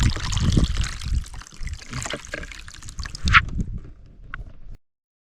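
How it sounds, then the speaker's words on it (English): Pond water carrying a macroinvertebrate sample is poured through a strainer, a splashing trickle that surges and dribbles for several seconds before stopping abruptly, with a few faint drips near the end. "just pour that out through this strainer"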